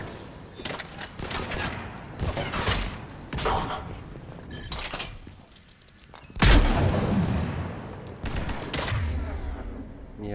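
Heavy gunfire in the video game Mass Effect 3, sustained bursts of rapid shots with sharp cracks and booming impacts, a loud surge midway, continuing without pause and no talk over it.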